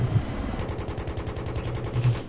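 Rapid automatic gunfire in Battlefield 3, a steady burst of evenly spaced shots starting half a second in and running to the end, loud and close over a low engine drone from a helicopter.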